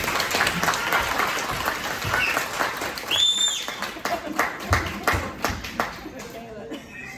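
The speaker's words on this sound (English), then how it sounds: "let's have another round of applause for our amazing poetess" An audience at a celebration claps and applauds steadily for a poet, with a few cheers mixed in, the sound tapering slightly toward the end.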